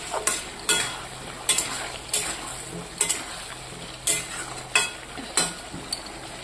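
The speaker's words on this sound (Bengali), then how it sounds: "আর এদিকে হচ্ছে আলু আর পটলটা আমি কষানোর জন্য দিয়ে দিয়েছি।" Potato and pointed gourd pieces fry in a pan, with a low sizzle under about nine rhythmic, sharp spatula scrapes against the metal at regular intervals.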